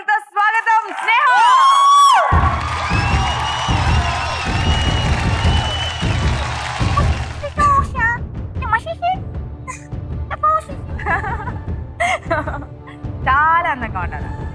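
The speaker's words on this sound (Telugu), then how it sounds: "గట్టిగా చప్పట్లతో స్వాగతం స్నేహ" A lively studio audience cheers, whoops and claps to welcome a dancer onto a choreography show stage, the crowd noise swelling over music and then breaking into scattered shouts and talk.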